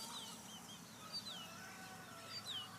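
Chickens on open pasture near a mobile coop, faint clucks and a few thin chirping calls scattered over a quiet outdoor background, distant and soft.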